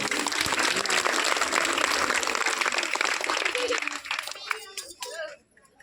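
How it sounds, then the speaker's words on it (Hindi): Church congregation applauding loudly during a Hindi Christian Christmas service, dense steady clapping that thins out and fades near the end. "जोरदार तालियां बजाइए"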